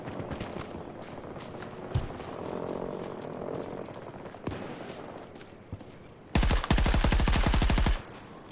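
Battlefield 2042 weapon fire, scattered single shots and distant pops over a murmuring game soundscape, then a loud, rapid automatic burst of about a dozen closely spaced shots near the end.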